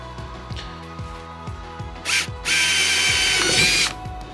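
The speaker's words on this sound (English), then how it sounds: "use a 3/8 inch drill bit to create the openings for the well nuts" A power drill with a 3/8 inch bit whirs in two loud bursts, a short one then a longer sustained spin, drilling holes in a Hobie Mirage Passport 12 kayak hull, after a run of steady rhythmic clicking.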